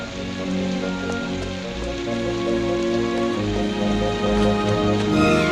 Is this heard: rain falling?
yes